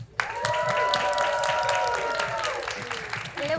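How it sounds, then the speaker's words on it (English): A crowd applauds warmly, a dense wash of clapping lasting several seconds at steady strength. "please join me in a round of applause"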